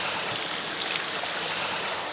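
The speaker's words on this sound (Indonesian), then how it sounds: "Langsung kita masukin air nih." Water is poured steadily into a large cooking pot for Indonesian ayam bakar kalasan, a continuous close splashing rush filling the whole short moment without speech.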